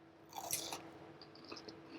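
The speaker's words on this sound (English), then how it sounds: "I don't know if you can hear the crunchiness, but it is really, really crunchy" Crunchy fried tonkatsu pork cutlet being bitten and chewed up close, a few crisp crunches in quick succession followed by softer, quieter chewing.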